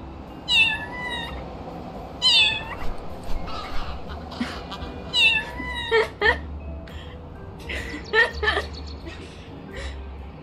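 Repeated cat meows from the video game Little Kitty, Big City, several distinct cries spaced a second or two apart, heard close and clear over a low ambient game background with faint other sounds.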